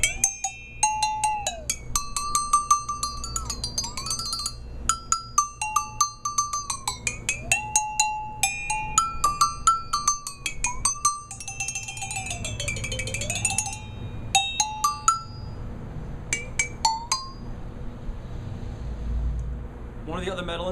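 Two sets of Gobo Bells of different pitches taped together, struck and dipped in water: rapid metallic pings with pitches that sweep and warble, ringing over a low rumble.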